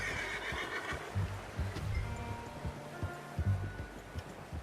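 A horse in the Red Dead Redemption 2 video game whinnies and snorts near the listener while its hooves clip-clop in an irregular pattern over a soft outdoor ambience.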